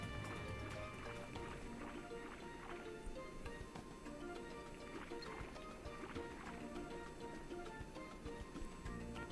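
Watery ambience from the underwater swimming level of Kingdom Hearts Final Mix: continuous bubbling and liquid sloshing with soft drips, layered under steady game music at an even, moderate level.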